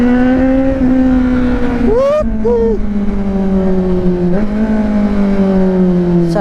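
A Kawasaki Z900 SE motorcycle engine braking on a wet road, heard close and loud as a droning engine tone that falls steadily, with a brief blip of revs in the middle; a rider's voice speaks briefly.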